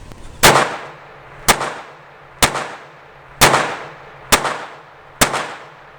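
Six sharp pistol shots from a Jennings J-22 firing Federal ammunition, spaced roughly a second apart, each a loud close crack followed by a short ringing decay, with no talking.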